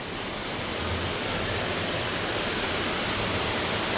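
A steady, dense hiss of heavy rain pours without a break, loud and even throughout.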